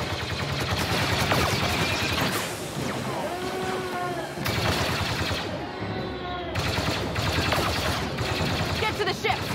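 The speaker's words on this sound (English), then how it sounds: "Then just keep shooting!" Rapid blaster and gunfire bursts in Star Wars Battlefront 2, dense repeated shots in several long volleys over a busy battle background, with voices talking intermittently.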